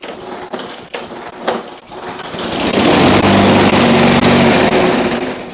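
A lawn mower engine, traded for a snow blower, catches after a few sputtering pulls and settles into a loud, steady running drone with a constant low hum.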